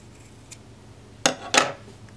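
Scissors snipping craft material to length while making a mini hat garland, two crisp close cuts in quick succession after a quiet stretch.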